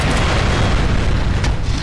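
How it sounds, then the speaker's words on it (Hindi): A rocket explodes in the Unkilled zombie shooter video game with a loud, dense, rumbling boom that fills the short stretch without a break. "तो मैंने एक रॉकेट गिराया इसके ऊपर"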